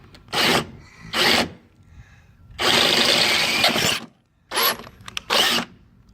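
Power drill enlarging a 1/4-inch bolt hole to 5/16 inch in the body of a 2013 Mercedes-Benz Sprinter van, running in four or five loud separate bursts of grinding whine with short pauses between them, the middle burst longest.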